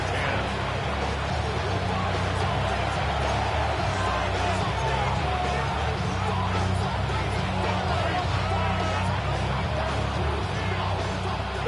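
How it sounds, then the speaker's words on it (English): A football stadium crowd roars continuously with dense, steady noise and scattered yells, loud and close, while a commentator talks over it throughout. "This crowd into it now as we get to third down."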